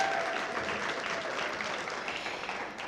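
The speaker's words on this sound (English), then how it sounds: "So let's give her a round of applause as well." An audience at a 2024 teen mental health first aid summit gives a round of applause, steady, fairly close clapping from many hands that holds evenly for a few seconds with no talking.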